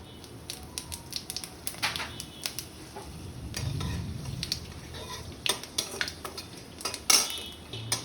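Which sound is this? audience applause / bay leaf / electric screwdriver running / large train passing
bay leaf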